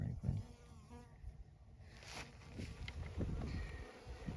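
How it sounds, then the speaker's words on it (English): Wild bees from a desert hive buzz steadily at close range, a dense, continuous drone with fluctuating loudness, mixed with wind and brief voices. "Okay, we got a bunch of bees"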